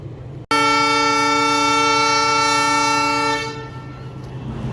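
A loud, sustained multi-tone horn blast from a metre gauge passenger train at a station on the old Bahraich–Nepalganj Road line, held steady for about three seconds before cutting off into the idling rumble of the train.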